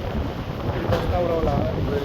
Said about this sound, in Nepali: कस्तो हावा लागिरहेको